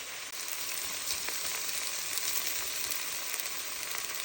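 A constant, even sizzle rises from onion, ginger, green chili and garlic frying in oil for a Kerala-style chicken curry, with no voices over it.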